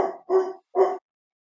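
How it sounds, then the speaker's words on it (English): A dog gives three short, firm barks in quick succession with a brief gap before the last, fairly close and clear against otherwise quiet surroundings. "he's barking now. I can hear him barking in the background"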